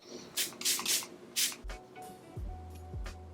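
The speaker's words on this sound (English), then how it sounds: "I'm gonna put my spray real quick." A clear lip gloss spray hisses close up in several short bursts, followed by soft handling thumps and clicks, with no voices.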